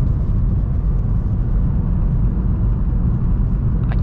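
A Honda Civic picks up speed on cruise control, heard from inside as a steady, loud low engine and road rumble that holds even throughout with no talking.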